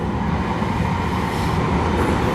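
A train rumbles past close by, a steady, loud, broadband roar that holds for the whole stretch with no voices over it.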